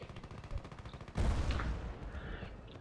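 SKS rifle fire in Battlefield Play4Free: faint, quick rhythmic clicks and taps, then a sudden louder blast that rings and trails off into scattered distant noise.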